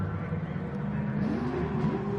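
A GT3 race car in a racing video game at Big Willow, its engine revving steadily and climbing in pitch. The loud, continuous engine tone fills the whole stretch with no talk.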